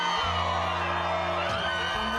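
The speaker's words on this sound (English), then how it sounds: "Applause and USA chants from Trump supporters" Trump supporters in South Carolina cheering and whooping as a crowd, a steady loud roar of voices with chant-like tones throughout the short stretch.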